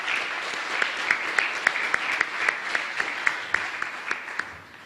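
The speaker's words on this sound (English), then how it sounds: "We should give a round of applause again for doing this for us." An audience at a 2008 business college keynote gives a round of applause, a steady wash of many hands with a few sharper individual claps standing out now and then before it fades.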